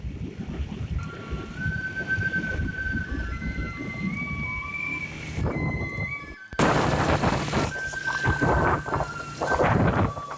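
Rain pours down steadily on a highway in Karachi while thunder rumbles low and long, with a sharper, louder burst of storm noise partway through.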